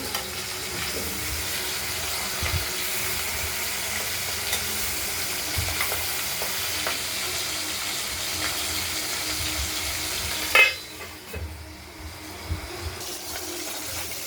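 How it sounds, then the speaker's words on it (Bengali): Steady crackling sizzle of pabda fish frying in hot oil runs throughout, with a sharp clatter near the end before the sizzling resumes more quietly. "মাছগুলো ভাজা হয়ে গেছে"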